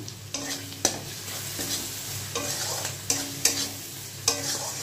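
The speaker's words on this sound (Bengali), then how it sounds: "মশলাটাকে ভালো করে কষিয়ে নিতে হবে" Spices with coriander powder being fried and stirred in a pan, with repeated scraping stir strokes over a steady low sizzle, close up and with no talking.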